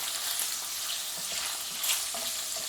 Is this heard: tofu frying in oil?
yes